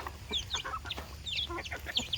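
Chickens cluck and chirp in a busy flock during morning feeding on a rainy day, giving a steady, close chatter of overlapping short calls.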